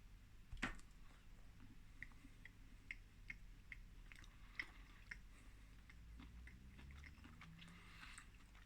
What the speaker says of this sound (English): let's give it a bite and see what the insides look like